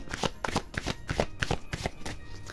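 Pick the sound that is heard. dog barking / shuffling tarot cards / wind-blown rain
shuffling tarot cards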